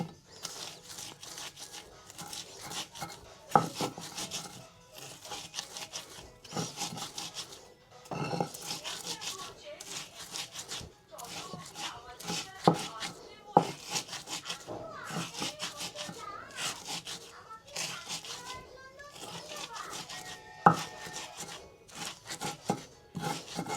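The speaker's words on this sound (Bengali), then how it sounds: "আমি এখন এগুলো শিলটি বাটা বেটে নেব।" Taki fish are ground by hand on a stone shil-nora grinding slab, a rough rasping scrape repeating in bursts of strokes with short pauses, with faint voices in the background.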